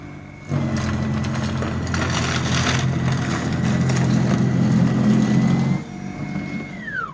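A Toro 60V lithium-ion battery snow blower running steadily in eco mode while clearing wet snow: a loud, close, constant motor whine with churning, crunching snow, which winds down at the end.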